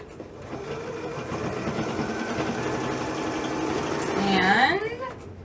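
A sewing machine runs steadily while stitching baby rag quilt pieces, a continuous near hum under a talking voice, with a brief rising whine near the end.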